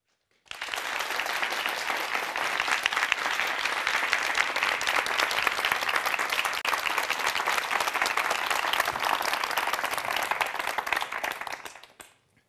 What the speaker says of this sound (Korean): 박수로 무대로 모시겠습니다